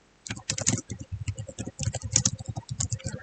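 Python code being typed on a computer keyboard, a quick close run of crisp key clicks with no voices.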